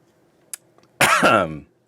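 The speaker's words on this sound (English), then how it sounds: "sorry I coughed in the mic there" One sharp cough right up against the microphone, preceded by a faint click, then quiet.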